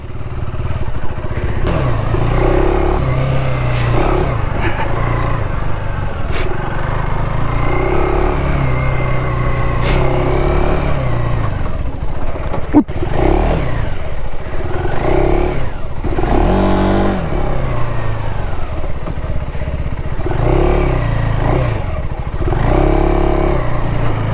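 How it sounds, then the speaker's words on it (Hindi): A motorcycle in off-road mode on a ride near Bhatghar Dam, its engine droning loudly and continuously up close, with repeated rises and falls in revs and occasional clattering knocks. "सो ये ऑफ रोड मोड में बाइक डाल दी है मैंने"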